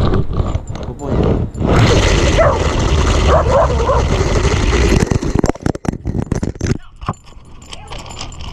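A dog barks and whimpers near a GoPro-mounted Hot Wheels toy car, loud, close and messy with jostling noise and scuffling as the dog grabs the camera, while people speak briefly.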